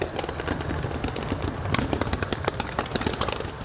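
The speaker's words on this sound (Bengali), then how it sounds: "আতশবাজি, লেজার আর ড্রোন শোতে আলোকিত মিশরের গিজার আকাশ।" Fireworks at the Grand Egyptian Museum opening in Giza, Egypt, crackle in rapid, dense strings of small pops over a continuous roar, heard from a distance without any talking.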